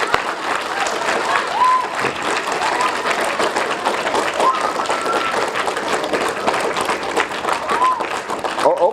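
Elementary school children applaud the mayor at a career day, a dense, steady burst of clapping that fills the room throughout, with scattered young voices and cheers mixed in.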